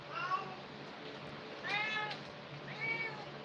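An indoor house cat that has been pawing at a ring light gives three soft, drawn-out meows. They are quiet and spaced apart over a low background hiss.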